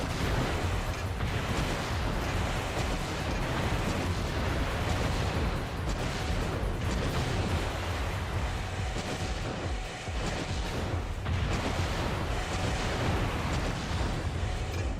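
A napalm launcher fires in Armored Core 3, producing a dense, continuous roar of blasts and rumbling bursts that keeps up for the whole stretch with only brief dips.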